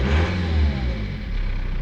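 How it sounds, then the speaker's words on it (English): A BMW 320d E46 diesel engine runs just after a cold start following a year unused, a loud close mechanical rumble with clattering diesel knock and a slight rise and fall in revs, no voices. "the car starts smoothly and the idle is perfect"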